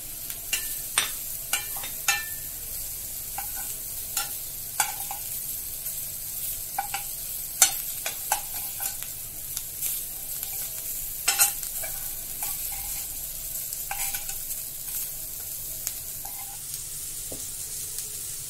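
Zucchini stir-fries with green and red chillies and coriander, a constant soft sizzle broken by frequent sharp scrapes and taps of a utensil against the pan.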